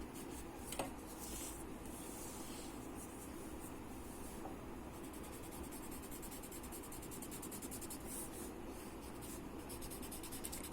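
Graphite pencil shading on paper: a steady, close, scratchy rubbing that runs without pause for the whole stretch, with no voices.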